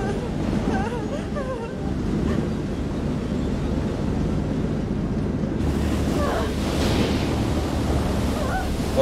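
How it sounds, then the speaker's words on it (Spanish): Ocean waves in the video game Man of Medan make a loud, continuous rushing surf with wind, close and unbroken, with faint voices murmuring beneath. "Vaya oleaje, loco."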